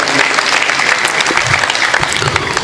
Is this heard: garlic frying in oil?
no